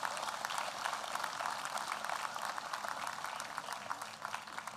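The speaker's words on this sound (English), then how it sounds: "Can we give a big round of applause to all of them?" A convocation audience gives steady, even applause for scholarship recipients, a continuous hiss of many hands clapping at moderate distance with no pauses.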